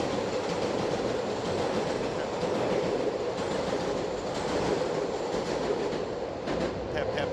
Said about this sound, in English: Train's coming again.